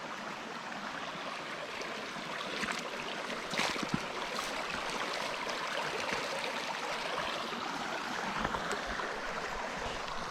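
Shallow creek water burbles and rushes steadily nearby, a continuous hiss of flow with small splashes scattered through it.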